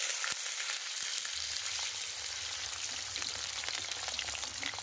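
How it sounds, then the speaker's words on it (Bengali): Potato pieces dropped into hot oil seasoned with kalonji seeds, a dense steady sizzle that holds throughout at moderate loudness, with a couple of faint knocks near the start. "কালির জিরা দেওয়ার পরে গরম হয়ে গেছে, আমি তেলের মধ্যে আলুগুলো দিয়ে দিব।"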